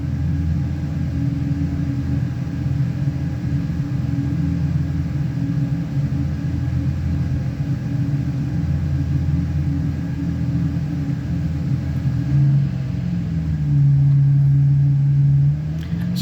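A Chevy NASCAR truck engine in iRacing at Charlotte drones and rumbles steadily from the cockpit at the race start, loud and continuous, with a rising tone near the end as it accelerates.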